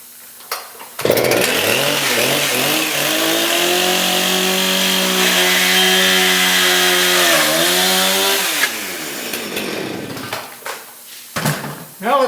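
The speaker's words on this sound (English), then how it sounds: "we're going to stick the chainsaw through there." A chainsaw bites into a wooden wing spar at a one-inch knot hole, its engine roaring loud and steady for several seconds with a rising and falling pitch before it idles down and cuts off.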